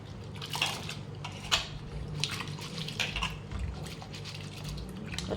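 Water is poured off soaking urad dal, with faint trickling, splashes and occasional clinks of a metal pot, quiet and close.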